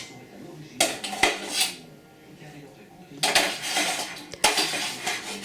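Metal pots and pans clatter and clank in a home kitchen as boiled potatoes, cooked 25 minutes in salted water for mashed potatoes, are retrieved, with bursts of close, sharp handling noise separated by quieter pauses.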